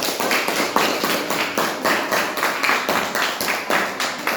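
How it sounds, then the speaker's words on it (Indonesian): A classroom of students claps for a student group, a loud, even, rhythmic clapping close by that keeps a steady beat from start to finish. "tepuk tangan buat kelompok 1"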